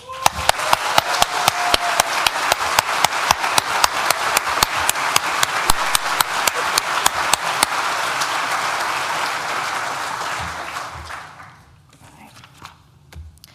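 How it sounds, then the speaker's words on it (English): Graduation ceremony audience applauding university staff: loud, dense clapping from a large crowd with sharp individual claps standing out near the front, sustained for about eleven seconds before fading out. "Please join me in giving them a round of applause."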